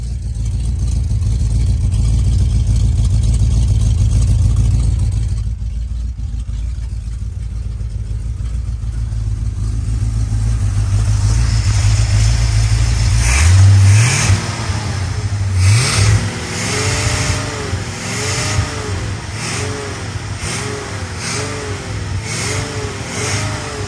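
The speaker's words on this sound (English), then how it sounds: "Sound of a quadrajet sucking in air." The engine of a 1966 Oldsmobile Toronado, fed by a Quadrajet carburetor, idles with a deep, loud rumble, then revs up and down repeatedly with a rising intake roar, close and alone.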